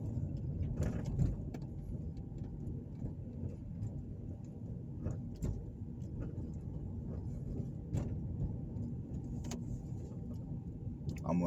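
Faint, muffled rumble of a car driving along a city street in Evansville, Indiana, heard from inside with light road noise and occasional soft knocks.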